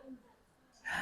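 A person demonstrates a pure inhaling breath sound for a breathing exercise: a quiet, short pause, then one brief, airy inhale near the end, close to the microphone.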